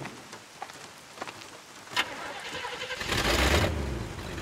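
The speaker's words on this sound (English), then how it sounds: "Engine still purrs nicely." A car engine in the video game Bayonetta turns over and settles into a steady rumbling idle, swelling louder toward the end, close by with no speech.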